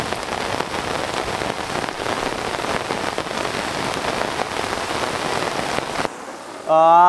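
Heavy rain from a thunderstorm pouring steadily and loudly, cutting off near the end before a voice begins speaking.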